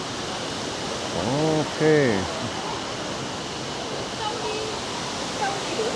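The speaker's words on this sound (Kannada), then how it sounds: "ಅಲ್ಲಿಂದ ನೋಡಿ ನೀರನ್ನು ಧುಮುಕ್ತಾ ಇದೆ." Nikko waterfall in Japan thundering down at a sightseeing spot, a steady loud broadband roar filling the scene, with a brief spoken word and a short tonal call over it.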